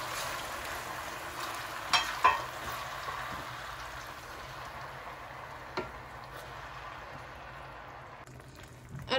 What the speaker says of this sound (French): on rajoute notre tomate pelée